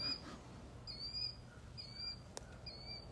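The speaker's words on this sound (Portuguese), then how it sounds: "Agora vocês vão ouvir os barulhos dos passarinhos." Small birds chirp outdoors, with a few thin, high calls repeating at intervals over a soft background hiss, fairly faint and with no talk.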